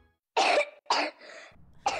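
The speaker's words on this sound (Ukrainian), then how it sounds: "Кашель сьогодні може бути серйозною проблемою." Three harsh coughs from a person in a cough medicine advert, loud and close, with short gaps and a low rumble after the second.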